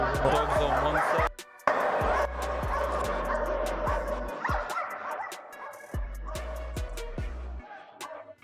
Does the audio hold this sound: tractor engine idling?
no